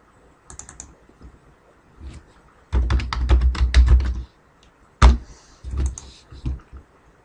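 Computer keyboard typing while entering VBA code, a few scattered clicks followed by bursts of rapid close keystrokes, then pauses and another short flurry.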